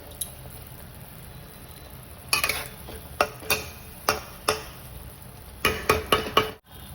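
Spice masala is sautéed with potatoes in a pan for a thin fish curry, a soft background sizzle punctuated by a series of sharp spatula scrapes and taps against the pan in irregular rhythm.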